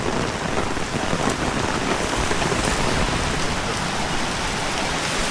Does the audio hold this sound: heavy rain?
yes